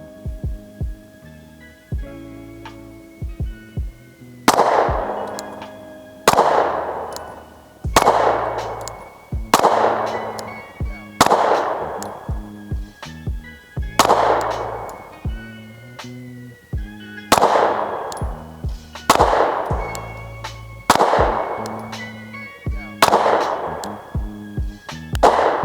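A SIG P365 pistol fires at a target 11 yards away, about ten loud, sharp shots at uneven intervals of one to three seconds, each ringing out with a brief echo, after quieter clicks and handling at the start.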